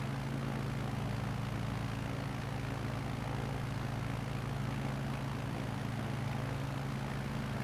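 A slow propeller plane in a flight simulator game drones steadily throughout, a continuous low engine hum with a faint airy wash above it, no voices.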